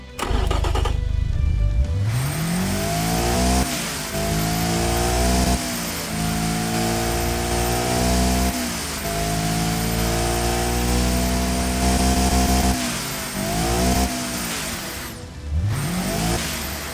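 A 300-horsepower hatchback with variable valve lift revs hard in a racing video game, its engine note climbing repeatedly through the gears in loud, sweeping pulls with brief dips between shifts, close and steady throughout.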